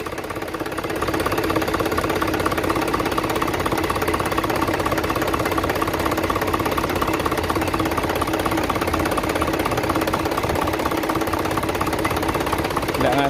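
Continuous rattling boat engine chugging steadily at idle, loud and close, with a fast knocking rhythm throughout.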